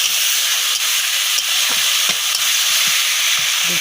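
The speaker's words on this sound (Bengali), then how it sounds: "এখানে পেঁয়াজ বাটা এবং টমেটো বাটা দিয়েছি এই যে আদা বাটা রসুন বাটা দিয়ে দিয়েছি" A paste of onion, tomato, ginger and garlic sizzles loudly in hot oil, a dense, continuous hiss close up, with soft scraping knocks as it is stirred.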